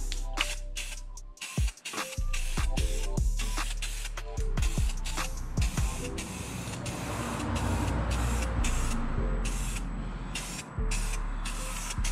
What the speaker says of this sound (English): And then we're just gonna hit it up and spray it.